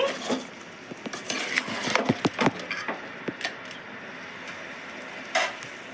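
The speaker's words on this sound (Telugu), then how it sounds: "అల్లం పేస్ట్ వేస్తున్నానండి." Ginger paste being stirred into a cooking pot for chicken biryani: a spoon scrapes and knocks against the metal in a run of irregular clicks and taps over a soft background hiss.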